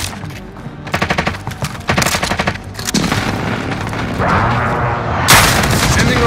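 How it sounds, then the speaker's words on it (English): Call of Duty battle with rapid machine-gun bursts giving way to a heavy rolling barrage of booming precision-airstrike explosions, loud and sustained, building toward the end. "friendly precision airstrike inbound"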